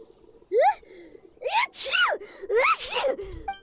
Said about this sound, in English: She's sneezing all the time.